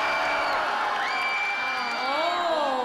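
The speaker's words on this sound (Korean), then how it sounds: "오케이 하이톤의 함성이" A K-pop concert audience at a school cheers and screams in high-pitched voices, a sustained wall of whooping and shrieking with rising and falling tones.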